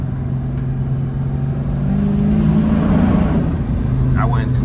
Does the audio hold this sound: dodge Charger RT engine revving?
yes